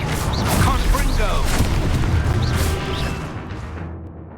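A Confringo spell explosion in Hogwarts Legacy on the Switch 2: booming blasts and crackling bursts with whooshing effects, over a voice calling out, then fading away.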